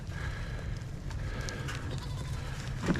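A goat bleats once near the end of the clip, over a steady low rumble of farmyard background noise, with other goats around.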